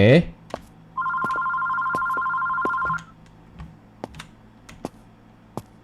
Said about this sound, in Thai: เธอโทรศัพท์บ้านเราอยู่ไหนเนี่ย มีคนโทรมา